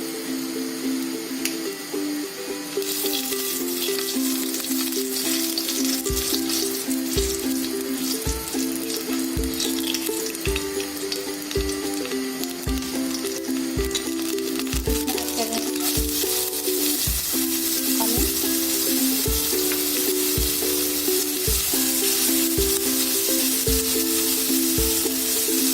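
Asafoetida frying in hot oil for palak paneer, a continuous soft sizzle that runs throughout under a louder steady tonal hum and repeated regular clicks, with no talking.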